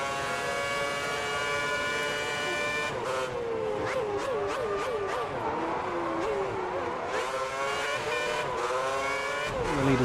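A Formula race car roars in a racing video game set at the 2010 Korea race, its high-revving engine note rising and dropping through gear changes and corners, loud and continuous throughout.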